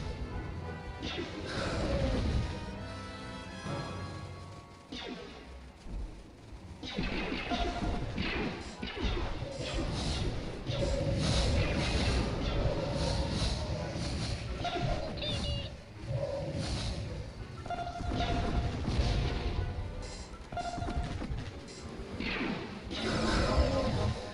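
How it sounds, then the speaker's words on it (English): Explosions and fire in the Star Wars Galaxies game, with repeated crashing blasts, whooshes and crackling bursts layered densely over a busy background, moderately loud throughout. "Lots and lots of explosions and fire."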